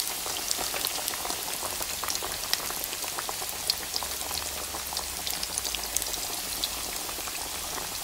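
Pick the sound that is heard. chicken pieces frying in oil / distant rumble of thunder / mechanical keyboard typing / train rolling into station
chicken pieces frying in oil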